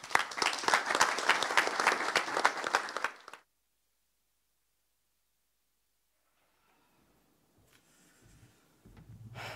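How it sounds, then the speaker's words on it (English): Conference audience applauding a speaker at KiCon 2023, loud dense clapping for about three seconds that cuts off abruptly, followed by near silence and then faint room noise and shuffling toward the end. "thank you for that introduction and the round of applause"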